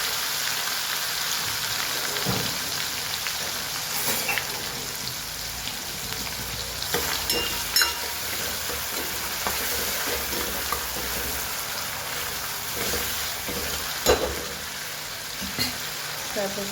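Tomatoes fry in a pan with a steady, broadband sizzle, broken by scattered clinks and scrapes of stirring. The cooking runs at close range throughout, with faint voices in the background.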